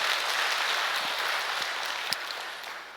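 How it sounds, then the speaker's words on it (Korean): Applause from the audience at a peace blessing ceremony: sustained, full-room clapping that holds steady and then gradually thins and fades toward the end, with no voices. "믿으시는 분은 큰 박수로 보내주시면 고맙겠습니다."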